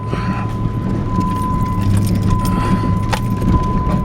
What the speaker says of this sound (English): But this is driving on rocks.